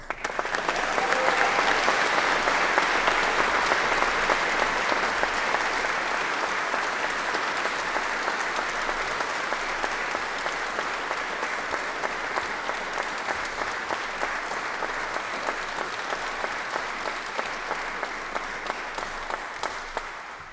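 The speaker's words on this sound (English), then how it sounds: "Please round of applause." Sustained applause from a large audience at a 2024 army commissioning ceremony, greeting newly commissioned second lieutenants; steady dense clapping holds at an even level for about twenty seconds and then tails off slightly.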